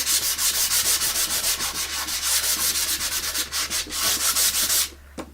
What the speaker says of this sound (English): now what I'll do is I'll go ahead and give that a sand